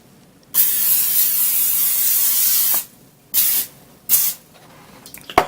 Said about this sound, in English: some olive oil spray